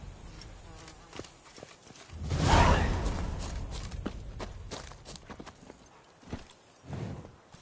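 Roach the horse in The Witcher 3 breaks into a gallop, a surge of hoofbeats and rushing movement swelling in the middle, then scattered thuds and steps fading out.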